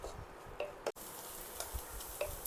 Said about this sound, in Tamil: சின்ன வெங்காயம், இஞ்சி, பூண்டு இந்த மூணையும் நல்லா வதக்கி விடலாம்